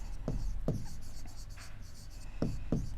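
Pen writing out a maths proof on paper, with a few short scratchy strokes and taps scattered over a quiet room background, soft and close.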